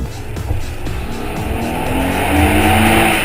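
A loud sports car engine roars and builds, its sound reverberating as if in an enclosed tunnel, with no voices.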